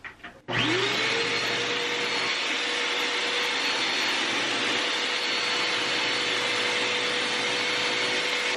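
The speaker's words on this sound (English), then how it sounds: "I've got my vacuum cleaner hose with some of this mesh that I used for my hammock bug net." A vacuum cleaner hose fitted with hammock bug-net mesh sucks up down feathers, roaring on loud and close after a brief quiet start and holding a steady whining drone throughout.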